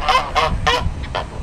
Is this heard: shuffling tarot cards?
no